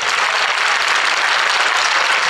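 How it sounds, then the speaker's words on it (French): A hall audience at a sports awards evening applauds loudly and continuously, a thick, even roar of many hands clapping at once with no voices on top. "On les applaudit très très fort."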